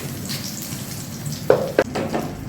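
Slit green chillies with a pinch of salt fry in hot oil for a cabbage dhoka curry. A soft, steady sizzle is broken by two sharp pops and spatters, close and alone.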